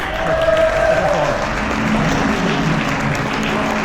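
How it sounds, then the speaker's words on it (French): Audience applause at a boxing gala, a steady wash of clapping held at even loudness throughout with a murmuring crowd and some voices underneath. "Allez, on peut les applaudir"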